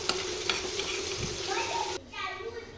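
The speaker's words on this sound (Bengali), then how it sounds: "এবার একটু সময় ভাজবো" Spices with turmeric frying in a pan for a home-cooked dish, a steady sizzle with stirring scrapes and a broad hiss that drops off abruptly near the end, leaving a quieter crackle.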